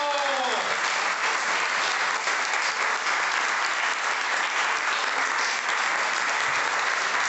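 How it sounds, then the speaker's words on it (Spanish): A church congregation applauding, a dense, loud, continuous wash of clapping that holds steady throughout, with a voice faintly audible at the start. "Den un aplauso a Cristo"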